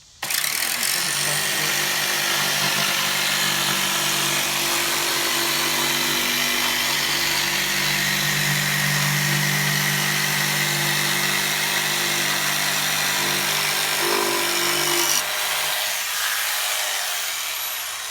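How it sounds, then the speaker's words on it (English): A jigsaw cuts plywood scribes around a high toilet flange, a loud, sustained buzzing whine that runs almost unbroken for about fifteen seconds before stopping, close by and alone. "This is just a jigsaw. It's not going to kick up a lot of anything."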